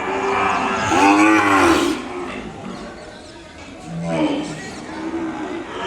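Cattle at a calf market in Kodad, with Ongole bulls present, lowing in two long, loud moos close by against a busy crowded background.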